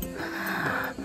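Heavy, wheezy panting from someone out of breath after climbing a hill, a single drawn-out breath lasting about a second, close and fairly loud.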